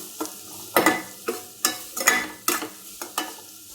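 Bitter gourd and onion pieces fry in a pan while being stirred, repeated scraping sizzle bursts in an uneven rhythm, close and clear with no voices.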